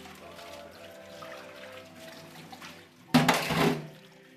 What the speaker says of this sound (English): And again, we rinse.